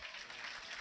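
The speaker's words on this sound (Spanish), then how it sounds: "Y hay que dar un gracias y un aplauso a nuestro rector" Steady applause from a symposium audience at a closing session, a continuous wash of clapping with no distinct individual claps, moderately quiet and brief.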